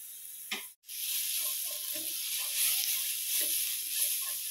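Coriander powder, garam masala and turmeric sizzle in oil in a pan for a Kerala-style chana curry, giving a steady, close crackling fry with small ticks and stirring.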